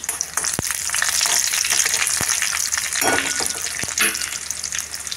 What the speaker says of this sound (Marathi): लसूण थोडीशी लाल झाली की त्यात मी हिरवी मिरची मी अशी लांबच ठेवते